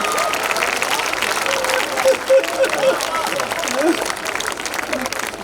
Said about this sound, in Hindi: एक बार तालियां वालियां बजा दीजिए